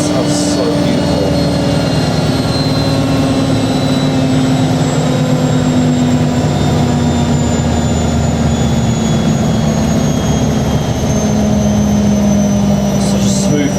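A washing machine's final spin cycle, a steady loud whir with a constant low hum and a high tonal whine, holding smoothly without change for the whole stretch.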